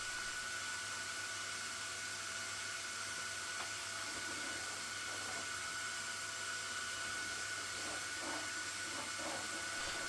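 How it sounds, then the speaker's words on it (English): A CNC dust vacuum fitted with a 3D printed vacuum mod runs steadily throughout, a constant close airy hiss and whoosh with faint brief rattles of debris being sucked up near the end. "Here you also get a clean show of the vacuum mod I made for my CNC."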